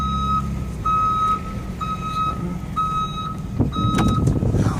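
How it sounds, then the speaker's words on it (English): A 2008 Chevy Uplander wheelchair van reverses with its backup beeper sounding, a steady series of evenly spaced electronic beeps over a low idling engine rumble, close and loud. "Got that backup beeper on it."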